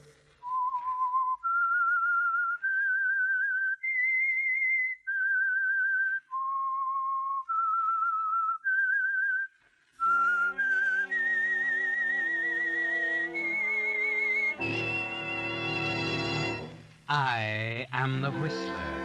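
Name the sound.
whistled theme tune of The Whistler radio show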